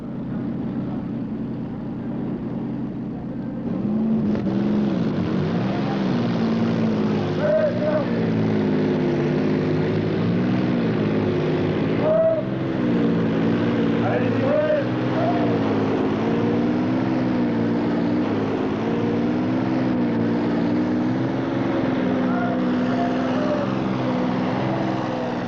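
A pulling tractor powered by an Israeli tank engine roars at a 1987 tractor pulling event in Bernay. A loud, sustained, rough mechanical drone kicks in after a quieter start and holds for the rest of the clip, with an announcer talking over it.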